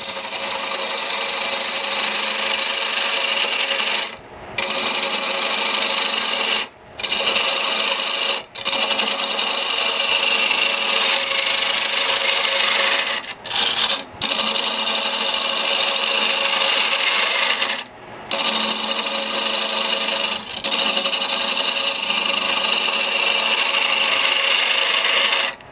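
A simple carbide square cutter on a wood lathe bites into a spinning strata wooden bowl, making a loud, sustained shearing whir that breaks off into brief gaps several times as the tool lifts away.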